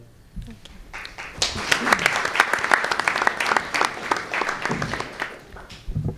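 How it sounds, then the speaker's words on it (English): An audience claps for a senator at a legislative reception, a burst of sustained applause rising after a brief murmur, with voices talking underneath and the clapping tapering near the end. "they're clapping for you and not for the prognosis"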